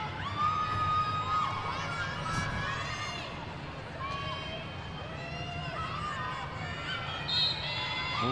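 School supporters packed into a far-side stand at a rugby and lacrosse fixture shout and chant in a sustained, distant crowd roar, with higher children's voices rising above the din.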